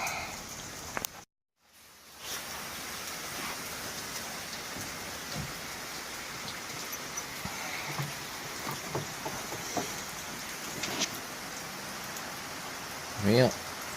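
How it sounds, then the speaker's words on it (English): Rain falls outdoors, a steady patter on surfaces around a backyard grill, with scattered louder drops and brief rustles throughout and a short bleat-like sound near the end. "Well, it started to rain out here"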